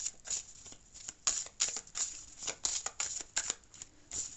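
Tarot cards are shuffled by hand in a quick, steady riffle of soft papery flicks, close and fairly quiet, with no talking.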